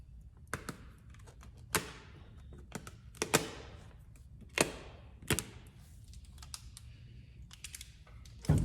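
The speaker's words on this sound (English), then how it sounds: "All I'm doing is just cutting out a piece of transfer paper." Transfer paper is cut by hand for airbrush stencil work, giving a series of sharp, close snips and crisp clicks at irregular intervals against a quiet background.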